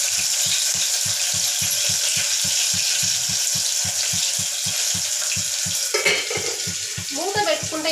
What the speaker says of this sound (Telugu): ఆ తాలింపు సౌండే వస్తుంది